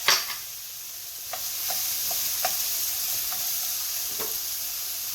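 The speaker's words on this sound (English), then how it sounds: "I've got to cook the onions down a little bit" Onions cook in a hot pan with a soft, continuous sizzle, broken by a scatter of faint clicks and scrapes from stirring.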